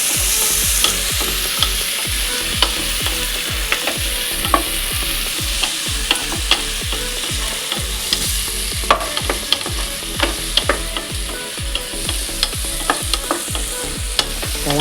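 Chopped bananas sautéing in a hot pan, with a steady loud sizzle and a quick repeated scrape of a spoon stirring all the way through, close up, with no talk.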